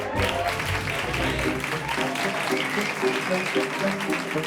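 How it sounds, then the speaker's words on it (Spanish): An audience applauds steadily for comedian Elsa Ruiz, with dense, even clapping that holds at full strength throughout, a voice faintly audible beneath it. "Fuerte el aplauso para Elsa Ruiz"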